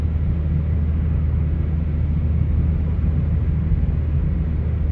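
Inside a moving 2018+ Hyundai Elantra GT with an aFe axle-back exhaust, a steady low exhaust drone hums while engine braking down a hill, a constant rumble filling the cabin with no talk.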